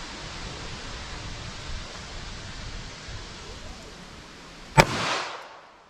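A snub-nose revolver fires a single loud, close .32 H&R Magnum semi-wadcutter round into wood near the end, a sharp crack with a brief rumbling decay after several seconds of steady outdoor hiss.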